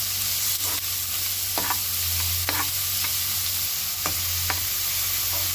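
Two chopped onions fry in a pan for a Ceylon mutton thakkadi, giving a steady, close sizzle with a handful of sharp stirring scrapes scattered through it.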